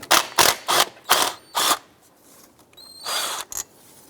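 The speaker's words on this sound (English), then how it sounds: "I'm going to loosen and remove the bolt in the back bracket." A ratchet works loose the rear bracket bolt during a power steering pump replacement on a 2005-2009 Subaru Outback, giving five quick bursts of clicking close by, then a short pause and a longer, fainter ratcheting run.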